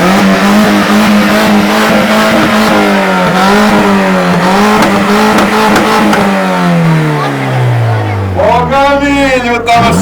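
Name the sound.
car engine revving through exhaust at sound contest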